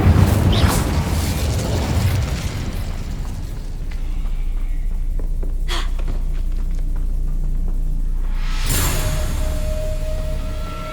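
Incendio fire spell cast in Hogwarts Legacy, a burst of roaring flame and booming impact followed by a sustained rumbling hum, with a second sharp whooshing burst near the end.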